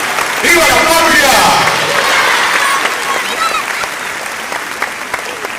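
Loud, sustained applause from a crowd at a Flag Day ceremony in Villa Ángela, Chaco, Argentina, with a swell near the start that fades slightly but carries on steadily throughout.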